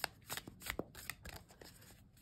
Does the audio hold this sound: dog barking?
no